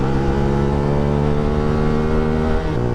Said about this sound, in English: Hello, Maserati.